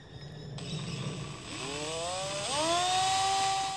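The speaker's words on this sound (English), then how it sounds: "I'm just drilling along this line that I've marked here" Handheld power drill boring a row of holes through wood for a coin moneybox, whining motor that ramps up in pitch and holds steady as the bit cuts in.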